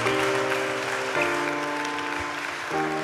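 Standing church congregation clapping as the pastor arrives, steady applause under sustained organ or keyboard chords that shift twice, the clapping fairly full and continuous.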